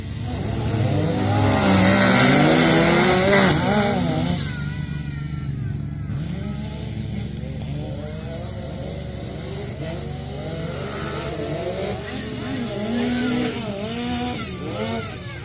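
Several race cars at the Fusion Greenville race sweep around a corner at speed, engines loud and rising and falling as they pass close by, with a crowd-like wash and faint voices underneath.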